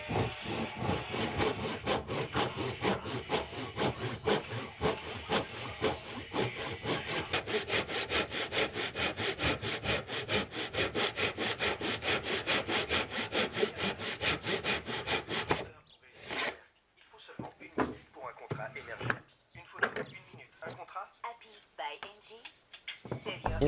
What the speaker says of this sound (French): Donc je découpe dans l'épaisseur avec ma scie à dos.